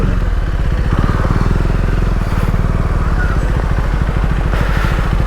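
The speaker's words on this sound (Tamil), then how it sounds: "டாக் ஸ்கூட்டி எடுத்துகிட்டு வந்திருக்கான்" A scooter being ridden, its small engine putting out a steady, loud, buzzing drone close by throughout, with no talk.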